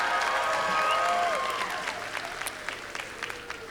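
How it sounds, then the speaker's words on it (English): Applause at a graduation commencement ceremony, an audience clapping for a doctoral graduate and her committee, starting full and steady, then thinning into scattered claps as it fades, with a voice faintly underneath. "A round of applause"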